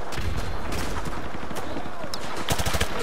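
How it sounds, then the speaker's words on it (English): Machine guns fire in Call of Duty Modern Warfare 2 during the Whiskey Hotel mission, sustained close bursts of rapid gunfire amid battle noise with sharper shots near the end. "Was there like 2 machine guns constantly shooting?"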